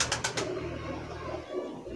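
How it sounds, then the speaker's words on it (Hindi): A pigeon coos softly and nearby, a low rolling murmur, after a few brief flutters at the start. "यह कबूतर है जी"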